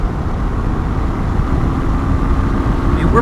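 A 2007 Kawasaki Ninja 250 (EX250R) motorcycle accelerating on the road, its engine droning loudly and steadily under heavy wind rush with a rising pitch near the end.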